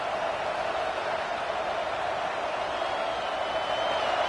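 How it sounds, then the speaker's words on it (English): A large college football crowd roars continuously in a dense, sustained wash of noise, like a packed stadium cheering from all around. "this crowd is fired up. Listen to this noise here."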